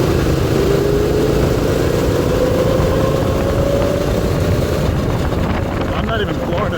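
Predator 212cc engine on a go-kart cruising below full throttle, a loud continuous droning hum with a slowly rising pitch, heavy wind rumble, and a voice talking over it.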